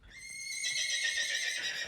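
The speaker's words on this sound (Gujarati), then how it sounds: "વાહ ઘોડી." A Kathiyawadi mare gives a single loud, close neigh, a rising whinny that holds and wavers for under two seconds with no talk over it.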